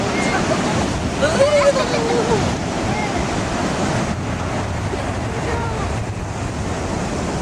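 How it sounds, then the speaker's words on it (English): Surf rolling onto a cold California beach, a steady broadband wash of ocean waves with wind buffeting the microphone throughout, and voices talking faintly over it. "We're just filming the beautiful ocean."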